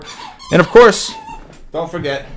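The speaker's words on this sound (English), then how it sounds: "Apologies for the dog distraction for those of you who are not dog people." A dog whimpering and yipping indoors in a few short, high whiny bursts, mixed in with someone talking.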